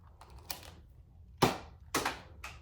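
A Nerf N-Strike Glowshot blaster fires white Sting foam darts, giving sharp, close snapping pops with mechanical clicks between the shots.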